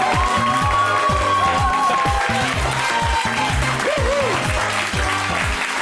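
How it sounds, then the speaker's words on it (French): A studio audience at a televised French talent show applauds and cheers steadily and loudly throughout, with a pulsing musical backing running underneath. "c'est Nico qu'on applaudit très très fort."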